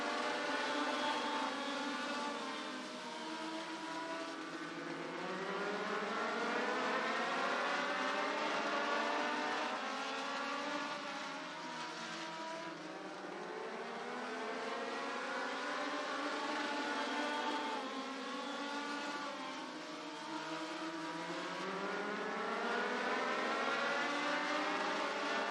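Legend race cars circling Atlanta Motor Speedway, a pack of engines droning and whining steadily, with repeated rising and falling pitch sweeps as cars pass, loud and continuous.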